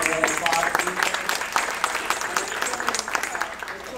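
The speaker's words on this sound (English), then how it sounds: "So please give him a round of applause." A crowd at a city oath of office ceremony in Westminster claps loudly and continuously for a few seconds, easing slightly toward the end.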